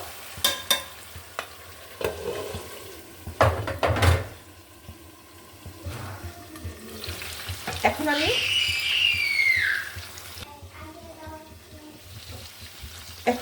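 Water is poured into browned, well-fried duck meat in a hot pan, giving a loud sizzling hiss mid-clip amid clanks and stirring, with faint speech around it.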